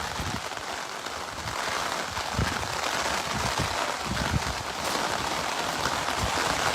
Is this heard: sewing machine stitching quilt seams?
no